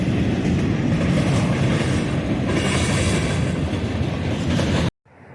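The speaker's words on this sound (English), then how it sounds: "So you see all the oil tankers coming by, and then boxcars, and then an auto rack, and another tanker" A long mixed freight train of oil tank cars, boxcars, an auto rack and grain hoppers passing close by: loud continuous rumbling roll with clickety-clack of wheels, cutting off abruptly near the end.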